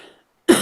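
A single short, abrupt cough bursts out close to the microphone after a brief silence, loud and harsh, with a trailing end, during a live television craft broadcast.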